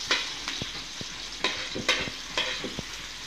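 Garlic and onions sauté in a hot pan for a grandmother's chopsuey, giving a soft, steady sizzle broken by sharp scrapes and clacks of stirring at irregular moments.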